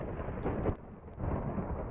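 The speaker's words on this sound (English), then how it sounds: "Yay, thunderstorm." A thunderstorm in a video game: one low, rumbling roll of thunder over a steady wash of rain, loud and broad with a slight swell in the middle.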